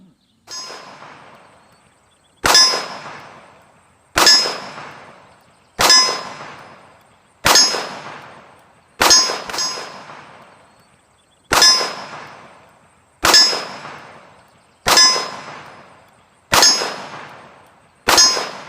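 Ruger GP100 Match Champion revolver fired at a range, about ten loud, sharp shots spaced roughly every one and a half seconds, each with a clanging ring and a short decay.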